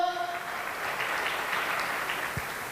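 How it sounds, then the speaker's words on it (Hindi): Steady audience applause at a Safe Shop women's training event in India, moderately loud and continuous, with faint voices mixed underneath. "जोरदार तालियां दोस्तों"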